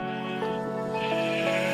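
A sheep bleats on a Minecraft wool farm, one drawn-out wavering bleat that fills the short moment, close and clear with nothing else around it.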